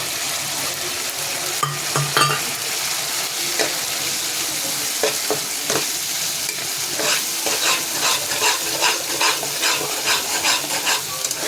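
Fish stirred and fried in a pan, a continuous sizzle with repeated scraping stir strokes and light clinks of a utensil against the pan, close and fairly loud with no talking.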